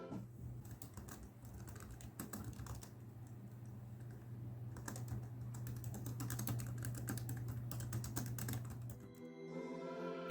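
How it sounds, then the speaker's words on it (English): Steady typing on an HP Pavilion DV7 laptop keyboard with quick, light key clicks in uneven bursts, close up and fairly quiet over a low hum. "This is how the keyboard sounds."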